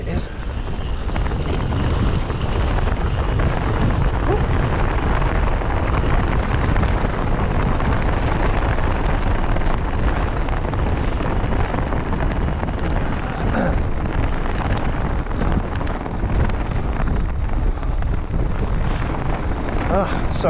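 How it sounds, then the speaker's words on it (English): Strong wind buffets the microphone on a snowy mountain trail during a descent, a loud, continuous roaring rumble that never lets up and covers everything else. "Hear how windy it is."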